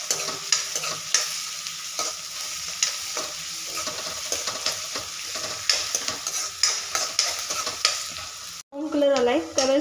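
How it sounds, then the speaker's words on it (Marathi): Onions are stirred and fried in oil in a kadai for restaurant-style kadhai paneer, heard as a steady close sizzle with rhythmic spoon scrapes throughout, then a brief break near the end followed by louder, more varied cooking sounds. "तर 1 वाटी कांद्याला मी थोडं टाकलं आहे ऑलरेडी। तर हे सगळं व्यवस्थित हलवून घ्यायचं एकदम व्यवस्थित।"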